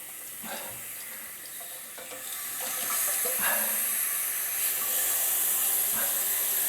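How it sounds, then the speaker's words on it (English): Water sprays hard from a Fluidmaster toilet fill valve during installation, a steady close hiss that swells louder about halfway through and holds, with a few faint knocks underneath. "that water's just shooting down there"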